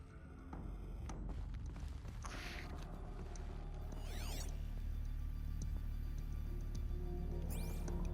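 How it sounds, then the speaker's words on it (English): Grinding, clanking machine-mechanism sounds from the video game Horizon Zero Dawn, a steady loud mechanical drone with ratcheting clicks and sweeping whirs layered on top. "Sounds like there's machines in here, but there really isn't."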